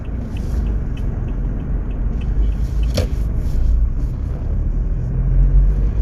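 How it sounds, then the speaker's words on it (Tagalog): Road traffic in Lancaster, a steady low rumble of cars passing at moderate distance, continuous and fairly loud, with a brief sharp tick partway through and no speech. "Dito sa Lancaster, traffic na rin."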